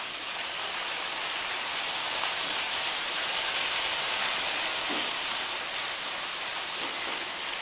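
Finely chopped tomato sautés with onion, garlic and ginger in a pan, a loud, even hiss of frying that runs unbroken throughout.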